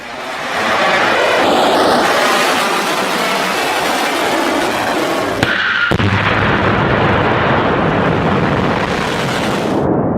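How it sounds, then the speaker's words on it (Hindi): Missile strikes from Iran's attack on Israel roar as a continuous, loud, booming rumble of blasts and crackling bursts. A brief break interrupts it midway, then the dense explosive din resumes without any speech. "ईरान ने इजराइल पर मिसाइलों की एक खतरनाक खेप दाग दी है।"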